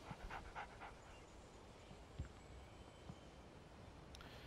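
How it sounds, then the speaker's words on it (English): A dog pants in the video game Alan Wake Remastered, a few quick rhythmic breaths near the start followed by quieter ambient game sound, faint and without speech. "Doggo."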